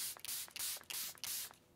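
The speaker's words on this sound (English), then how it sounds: "I'm gonna use my Airbrush Flawless Setting Spray from Charlotte Tilbury and really just drench the face." Charlotte Tilbury Airbrush Flawless setting spray misted onto a face in several quick, close hissing bursts, roughly five short sprays in a row.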